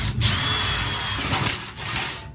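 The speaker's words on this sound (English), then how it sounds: "We're gonna drill a hole approximately 6 inches" A power drill whines steadily and loudly, grinding continuously through a Weil-McLain CGA4 boiler flue while drilling a hole, with a slight dip in pitch near the end.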